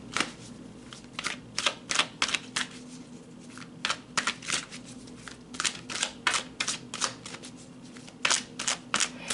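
Tarot cards are shuffled by hand close up, a soft, quiet run of crisp riffling flutters and slaps that repeats irregularly over a faint steady room hum.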